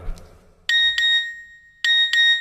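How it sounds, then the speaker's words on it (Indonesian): A mobile phone plays its SMS text message notification tone: a bright, clear two-note electronic chime heard twice in a row, up close and loud, with near silence between. "SMS masuk kedua."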